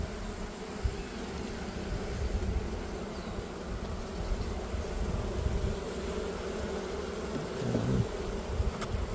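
Honey bees in a hive hum in a continuous, dense, close buzz that stays steady and fills the whole stretch without a break, with no speech over it.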